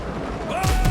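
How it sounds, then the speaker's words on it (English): Ship cannons fire a loud, booming blast near the end in the pirate sailing game Windrose, following a steady background of sea and ship ambience. "My cannons hit the wall."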